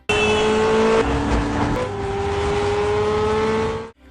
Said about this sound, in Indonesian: Ia pun langsung mengegas mobilnya dan adu kecepatan pun terjadi.